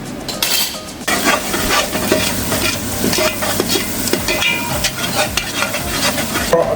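Tomato paste being stirred into a hot, sizzling pan while making spaghetti and meatballs: a steady frying hiss with repeated scraping stirs and occasional utensil clinks against the pan, close and fairly loud, no talking.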